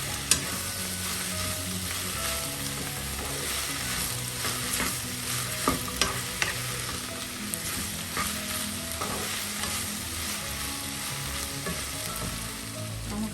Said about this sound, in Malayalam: മൊത്തത്തിലങ്ങ് വഴറ്റാം.